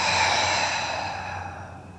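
A big breath exhaled out through the mouth during a yoga class, heard as one long, close breathy rush of air that tapers off gradually over two seconds.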